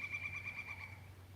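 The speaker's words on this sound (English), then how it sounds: "what bird is that?" A short, faint bird call, a high wavering note repeating in quick pulses, heard over a low steady hum.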